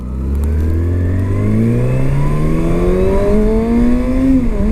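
A 2019 Kawasaki Ninja ZX-6R motorcycle accelerates hard on a street, its engine pitch climbing steadily through a gear, loud and close throughout with no talking.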